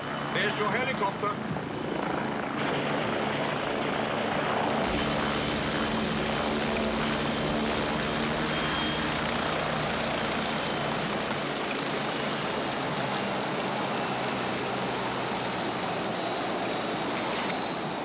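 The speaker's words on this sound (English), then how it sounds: "There's your helicopter." A steady, loud helicopter drone with whirring rotor and engine noise, continuous throughout.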